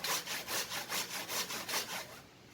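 Japanese pull saw with fine teeth cutting across the grain of wood, a close series of about eight rhythmic rasping strokes, evenly paced and alone, before stopping.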